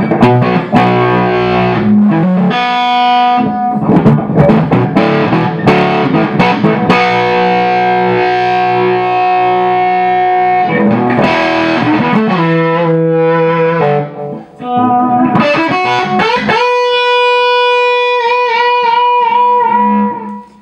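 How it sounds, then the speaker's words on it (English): A PRS electric guitar plays loud, heavily distorted chords and sustained notes through an amp, thick and buzzing, with a brief break before ringing out again. "Here's with the distortion on."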